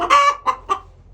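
Agitated backyard chickens squawk and cluck up close, one long harsh squawk followed by two shorter loud clucks, then quiet.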